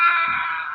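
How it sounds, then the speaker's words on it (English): Scary Halloween scream played back from a coding project, a sustained shrill wail held loud and alone for under a second. "But it is a scary scream."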